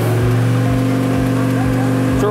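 A loud engine holds at high revs under heavy load on a dynamometer at wide-open throttle, a steady droning roar with a regular pulsing beat and no talking.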